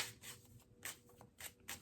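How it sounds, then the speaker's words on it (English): Kipper oracle cards are shuffled in a series of soft, papery riffles and swishes, recurring in irregular bursts, close and fairly quiet with no talking. "I've been shuffling for a little while, trying to get that internal stop to ring."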